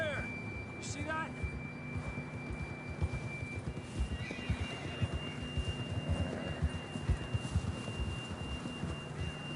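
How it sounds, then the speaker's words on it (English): A horse in the Red Dead Redemption video game whinnies near the start, then steady hoofbeats clop in a rapid rhythm alongside a faint sustained tone, continuing close and moderately loud throughout. "John was riding that horse when we left Blackwater."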